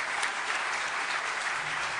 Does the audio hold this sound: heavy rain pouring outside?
no